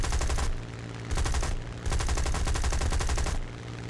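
Rapid machine gun bursts in War Thunder, several loud, close fusillades of fast rattling shots separated by short pauses over an engine drone.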